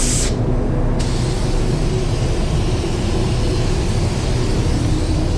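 A paint spray gun lays another wet coat onto a car's front bumper, producing a loud, steady, broad hiss that runs unbroken throughout and sits very close.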